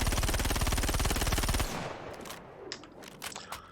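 Gemini C54 submachine gun in Star Citizen firing one long, rapid burst of evenly spaced shots, loud and close, then cutting off into faint trailing clatter and small handling noises.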